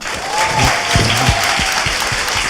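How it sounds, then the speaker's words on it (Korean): Steady applause from a crowd fills the whole clip, dense and continuous, with a voice faintly audible beneath the clapping. "다시 박수."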